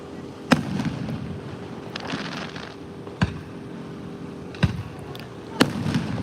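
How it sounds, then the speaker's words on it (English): Fireworks go off in daylight, several sharp distant pops and bangs spaced a second or two apart over a low steady background rumble. "what do you think about this fireworks when it's still light out?"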